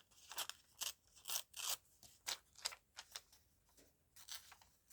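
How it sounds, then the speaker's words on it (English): Paper being torn by hand around a printed fish image, a series of short ripping bursts in an uneven rhythm, close and fairly quiet, with brief pauses between tears. "I'm just going to tear down around it"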